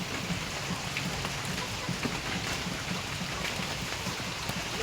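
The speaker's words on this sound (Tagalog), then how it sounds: "Sana tumigil na itong ulan." Heavy rain pours steadily over a flooded farm with goat houses, a dense, continuous hiss and patter with no voices.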